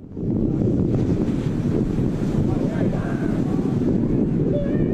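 Ocean waves and strong wind on a beach during shark fishing, a loud continuous roar of surf with heavy wind buffeting the microphone throughout.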